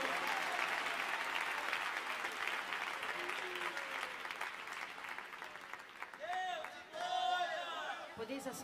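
A church congregation clapping to welcome a singer, loud sustained applause that thins out as voices and chatter rise over it near the end.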